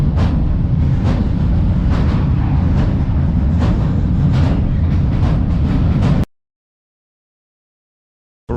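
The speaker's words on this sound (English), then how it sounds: "the train is driving back again" A train rumbles steadily along the rails with a deep, loud roar and rhythmic clacks, then cuts off abruptly into silence.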